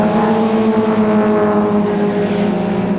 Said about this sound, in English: race cam action down the longest straight in South African racing, with Anthony Taylor and Robbie Smith in the BMWs pulling away from the big MTN Nissan Maxima